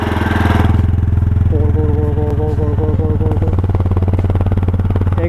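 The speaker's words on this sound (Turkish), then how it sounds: "Sesini şöyle dinleteyim size." A SYM Wolf 250 motorcycle engine idles loudly and steadily up close, its low throbbing pulse constant, with a brief higher rattling note partway through.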